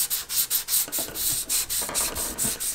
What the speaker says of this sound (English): I'm already going to go ahead and sand this